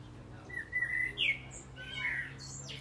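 A bird gives a few bright chirps and short squawks close by, separated by brief pauses, over a low steady hum.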